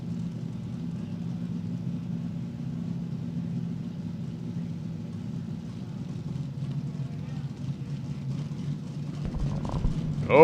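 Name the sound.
nitro-injected drag racing cars cackling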